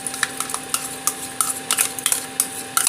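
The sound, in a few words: stirring yogurt into a cooking pot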